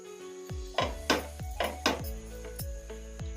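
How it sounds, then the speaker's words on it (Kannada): Masala bread toast pressed and turned in a pan, giving a run of sharp metallic clinks and knocks from a spatula against the pan, close and fairly loud, spaced irregularly over a faint background. "ಈ ಥರ ಪ್ರೆಸ್ ಮಾಡಿ ಫ್ರೈ ಮಾಡ್ಕೋಬೇಕು"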